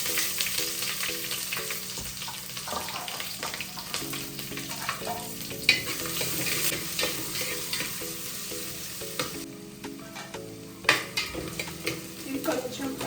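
Onions, green chillies, curry leaves and cashews frying in hot oil for mushroom pulao, with a steady sizzle, a spoon scraping and stirring against the pan at close range, and occasional clinks.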